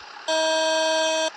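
Bus horn in the Proton Bus Simulator mobile game, a single steady synthetic honk held for about one second, loud and alone.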